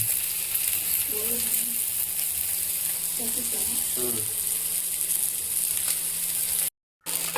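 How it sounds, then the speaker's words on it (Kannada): Fish rava fry sizzling steadily in oil on a tawa over a low flame, a close, continuous crackle with a few faint scraping stirs and a brief dropout near the end. "ಫಿಶ್ ಒಳ್ಳೆ ಬೇಯ್ತಾ ಇದೆ. ಲೋ ಫ್ಲೇಮಲ್ಲಿ ಇಡಬೇಕು, ಇಲ್ಲಾಂದ್ರೆ ಕರಟಿ ಹೋಗುತ್ತೆ."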